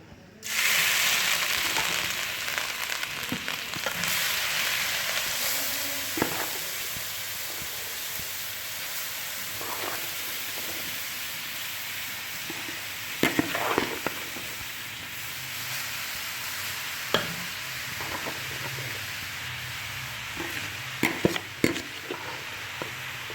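Carrots frying in hot ghee over low heat for carrot and egg halwa, a steady broad sizzle running throughout with occasional sharper crackles and stirring scrapes, no voices.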